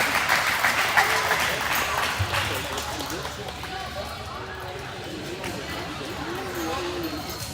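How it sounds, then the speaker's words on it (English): Applause from spectators at a pig livestock show fades after a strong start, with an announcer's voice talking over the thinning clapping. "Give her a nice round of applause, please"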